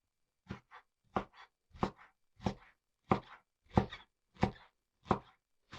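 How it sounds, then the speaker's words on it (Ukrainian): A knife chops onion on a board in steady, evenly spaced strokes, about nine crisp, close thuds, each with a short secondary tap and quiet pauses between them. "Нарізаємо цибулю"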